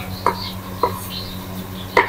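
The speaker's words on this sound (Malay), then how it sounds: "Kita potong bahan-bahan dia dulu." A knife chopping ingredients such as chili on a board for paprik ayam, three sharp separate chops spaced unevenly over a low kitchen hum.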